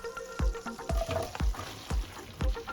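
Two large chopped onions hit melted unsalted butter in a medium saucepan over medium heat, a close sizzle broken by regular thumps of stirring about every half second, with no talking.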